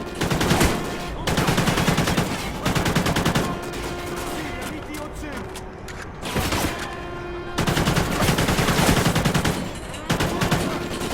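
Heavy automatic gunfire in the Call of Duty: Ghosts campaign, loud sustained bursts with brief gaps, firing nearly continuously throughout.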